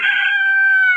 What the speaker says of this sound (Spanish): El despertar del gallo.